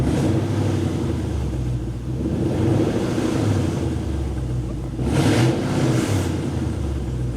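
A 22-year-old Lexus LS 430 with the 3UZ V8 engine revs in bursts, a low rumble that swells and eases, then two sharp climbs near the end, heard close with wind buffeting the microphone.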